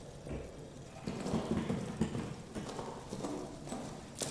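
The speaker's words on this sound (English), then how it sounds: "I heard footsteps" Footsteps in the video game Amnesia: The Bunker, heard as soft, faint, repeated thuds in an even walking rhythm over a low rumbling background.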